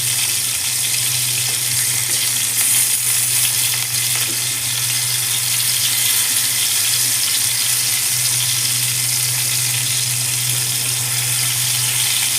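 Chicken keema balls fry in oil in a pan with a steady, loud, dense sizzle and crackle that runs unbroken throughout, close up with no talking.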